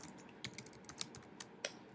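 Computer keyboard typing, a quick run of key clicks entering a web address, close and fairly soft, with no voices.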